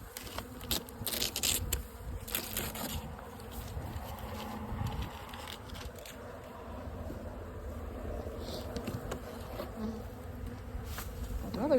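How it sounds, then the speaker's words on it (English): Honey bees buzz steadily around the listener, a dense humming swarm with individual insects droning close past now and then; no one speaks. "Oh, there's bees."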